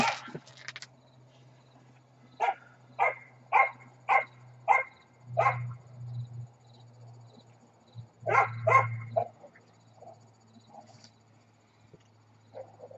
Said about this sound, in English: The neighbor's dogs are fighting or something.